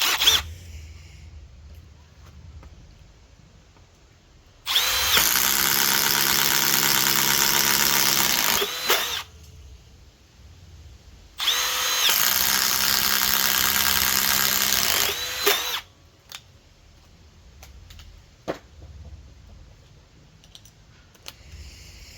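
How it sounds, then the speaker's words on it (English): Milwaukee M12 FUEL and DeWalt 12V drills driving bits into material, two sustained bursts of loud, steady motor whine of about four seconds each, separated by quieter handling clicks. "we'll drill a few in here just because I know everybody does it"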